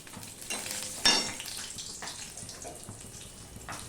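Garlic and green chillies fry in a pan for methi greens, making a continuous close sizzle with a few brighter bursts as ingredients hit the oil and are stirred.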